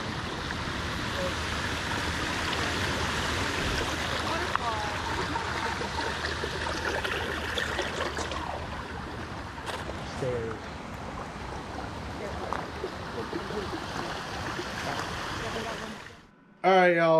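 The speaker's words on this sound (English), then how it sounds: "Waterfall." Waterfall along a hiking trail in Maine, a loud, continuous broadband rush of falling water close by that holds steady until cutting off abruptly at the very end.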